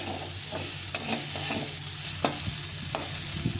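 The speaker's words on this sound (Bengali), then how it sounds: "এটাকে ভালো করে একটু ভেজে নিতে হবে।" Ground spices with a small pinch of turmeric fry in a pan, a close, continuous sizzle punctuated by brisk spatula scrapes and taps against the metal.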